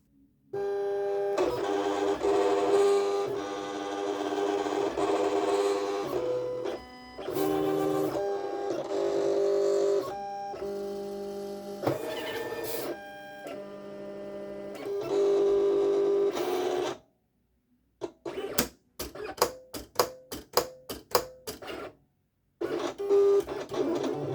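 Silhouette Cameo cutting machine running a print-and-cut job on magnetic bookmark sheet, whirring carriage moves in steady stretches, then a pause and a series of short clicky motor bursts, close and moderately loud with no talk.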